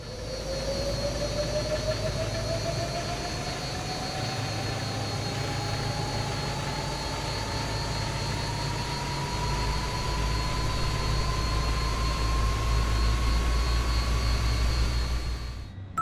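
Number 3 jet engine of an L-1011 TriStar in Microsoft Flight Simulator 2024 spools up, a whine climbing steadily in pitch over a constant low rumble, with no talk.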